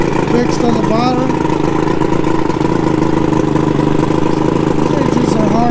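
A Mercury 150 hp inline-six engine on a Bayliner boat runs steadily, loud and close, with a constant droning hum throughout and faint voices in the background.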